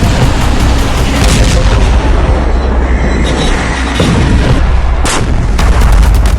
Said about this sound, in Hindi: जवाब है इजराइल के टैंक से अटैक।